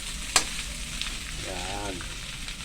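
Duck adobo sautés in a pan with a steady, close sizzle and frying hiss, a sharp utensil clink early on and a brief voice under the sizzle.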